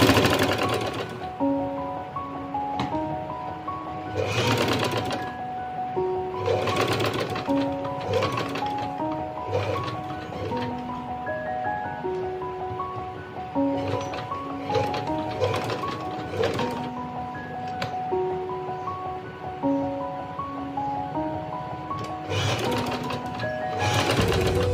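Sewing machine stitching a band collar onto a shirt, running in steady buzzing bursts with brief pauses between passes, loud and close, no talking.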